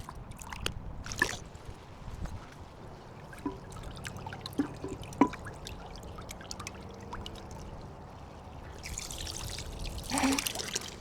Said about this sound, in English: I think that's a nice trickle.